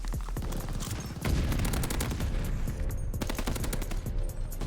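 NZ-41 rifle fire in Call of Duty: Vanguard, dense rapid bursts of shots with short pauses, loud and close, carrying over a constant roar of battlefield ambience.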